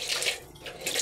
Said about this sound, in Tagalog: Gasan natin ang kamalunggay sa tubig.